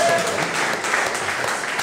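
Audience applause at a Q&A session with the makers of a film, a steady, dense wash of clapping that runs through the whole short moment without a break.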